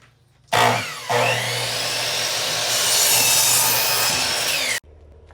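A power saw whines up and cuts through wood in one continuous, loud pass of about four seconds, then stops abruptly.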